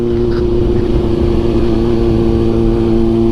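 A Kawasaki ZX6R fitted with an SC Project CRT exhaust sits close by, giving a loud, sustained rev with a steady tonal drone and no voices.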